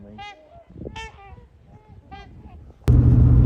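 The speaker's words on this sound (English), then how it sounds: "Swans coming in like crazy." Swans flying in during a Minnesota hunting trip give several loud, nasal honking calls in bursts, then a sudden broadband rush of noise takes over in the final half second.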